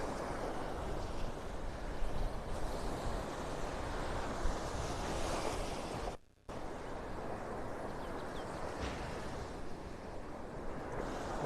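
Wind and ocean surf roll continuously on a beach in North Naples, Florida, a broad steady roar with a brief dropout partway through, loud and with no voices.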